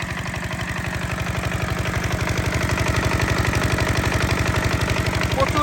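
Close by, an Emi 8.5 185 engine chugs at a fast, even idle-like beat while powering a 4-inch irrigation pump, the sound holding steady and swelling slightly louder toward the end, with no speech over it.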